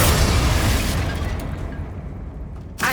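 A Confringo fire spell bursts in Hogwarts Legacy, a loud near explosion with a rumbling boom that decays over about two seconds before a brief second burst.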